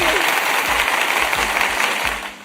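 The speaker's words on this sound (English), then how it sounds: "Let me hit them with a nice little round of applause." On a livestreamed radio podcast, a short burst of clapping plays on the broadcast, steady and fairly loud across the few seconds before fading at the end, with no voices over it.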